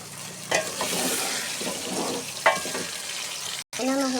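Potatoes and peas fry in a pan while being stirred, a continuous sizzle with scraping spoon strokes and occasional clatters, ending in a brief silence before a short burst of frying resumes.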